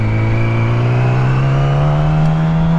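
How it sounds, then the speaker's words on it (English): A car cuts out in front of a rider on a motorcycle, heard as a loud, steady engine drone with a rising, revving pitch that stays close throughout, with no talk. "Watch this car right here, cut out in front of me."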